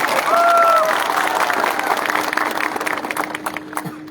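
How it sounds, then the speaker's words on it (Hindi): A crowd at a political rally breaks into applause, a dense burst of clapping that starts loud and fades over a few seconds, with a voice and a brief tone at the start. "आप अपने आप को भी थोड़ा सा ताली देकर अपने आप को भी क्रेडिट लीजिए"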